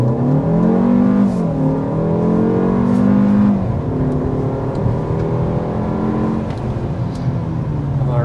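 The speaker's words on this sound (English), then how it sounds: "but first we need to start with a hard acceleration." A Kia K4 hatchback with a turbo engine accelerates hard, its engine note climbing steadily through several gears with short dips at each shift, loud and continuous from inside the cabin.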